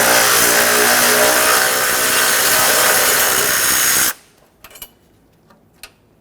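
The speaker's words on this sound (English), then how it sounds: "Let's use an 8mm socket and remove the two brackets holding the AC condenser onto the vehicle." Power tool with an 8mm socket removing AC condenser bracket bolts on a 2000-2005 Ford Excursion, a loud continuous whirring run of about four seconds that stops abruptly, followed by a few faint metallic clicks and taps.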